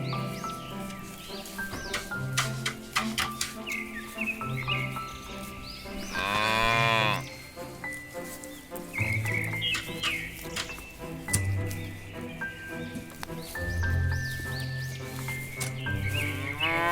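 A herd of cows on a farm lowing again and again, several long moos overlapping at different distances over soft background music and small clicks.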